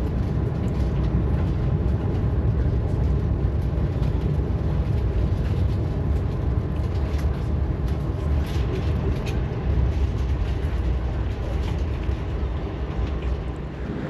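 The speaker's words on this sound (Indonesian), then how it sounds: "kereta api Ambarawa Express kini sedang berhenti di stasiun Kradenan" Steady, even rumble inside the Ambarawa Express passenger train while it stands at Kradenan station, a constant low drone with faint scattered clatter and no speech.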